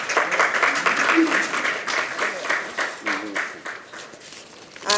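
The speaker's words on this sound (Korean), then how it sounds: "다시 한번 힘찬 박수로 서로 환영하는 박수 보내도록 하겠습니다" Participants at a party election campaign committee launch clap to welcome one another, a crowd's applause rising and thinning in waves with a voice talking over it.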